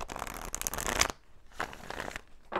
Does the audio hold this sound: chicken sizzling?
no